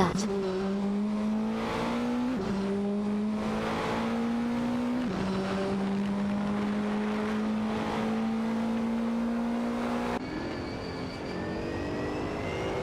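Lamborghini Huracan GT3 and Callaway Corvette C7 GT3-R race cars in a racing video game, engines droning loudly at high revs with rising pitch sweeps and sharp gear-shift drops, steady and continuous throughout.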